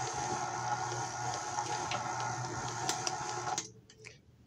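A stand mixer kneads stiff pie crust dough with a loud, steady motor whir close by, then cuts off abruptly near the end and leaves only faint background noise.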